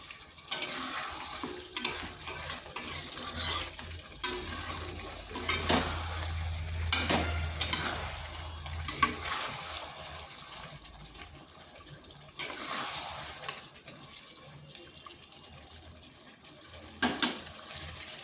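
Chicken pieces are stirred with spices in a pan for homemade chicken biryani, with a steady sizzle and repeated scraping strokes that come and go in bursts, close by and fairly quiet, with no talking.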